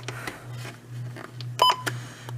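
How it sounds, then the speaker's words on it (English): A few short electronic button beeps from a Midland WR-120 weather radio sound amid soft clicks and a low steady hum, quiet and close. "I'm going to turn the button beeps off real quick."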